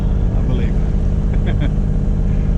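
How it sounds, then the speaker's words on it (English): A Bavaria 41 sailboat motoring under engine power, pushed harder than usual, giving a loud steady low rumbling drone with wind and water noise, a brief spoken remark over it. "So now I'm pushing the engine a bit harder than I've done before"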